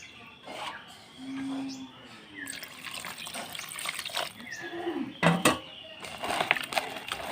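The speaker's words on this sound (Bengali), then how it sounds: "এখন জল দিয়ে দেব।" Water is poured into a pot while making ghee at home, giving gurgling splashes and liquid sloshing in uneven bursts, close up, with a few clinks and soft background sounds.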